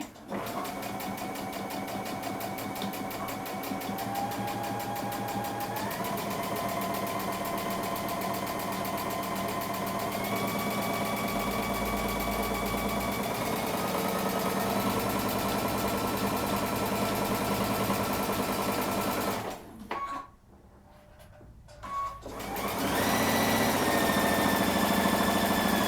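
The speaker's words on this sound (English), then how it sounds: "Now I'm going to stitch along the bottom, even though mine has a fold, just so it's a little bit more finished." A sewing machine stitches along the bottom edge of fabric with a loud, steady whirring drone that runs nearly nonstop, shifting slightly in pitch, briefly stopping and then starting up again near the end.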